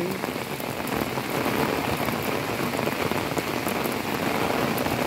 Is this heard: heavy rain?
yes